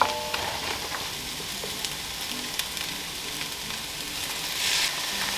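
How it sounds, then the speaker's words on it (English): Chopped onion and bell pepper sauté in a pan, a soft steady sizzle with faint crackles and an occasional light stir, fairly quiet and with no voices. "I'm going to let these cook for a few minutes until the onion and pepper are tender"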